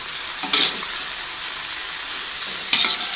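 Water spinach (kangkung) stir-fries in a pan for a simple village-style dish. A steady, close hiss of frying runs throughout, and two short, louder bursts of sizzle flare as the greens are tossed.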